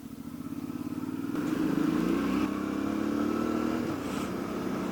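Suzuki V-Strom 650 motorcycle engine pulling away on a ride, a steady close droning rumble that builds as the bike accelerates, then holds a strong even note throughout.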